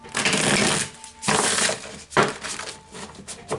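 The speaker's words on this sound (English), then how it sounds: "We'll do one more good shuffle and then we'll get to your spread." A deck of tarot cards riffles and rustles in quick bursts, close and crisp, with short pauses between shuffles.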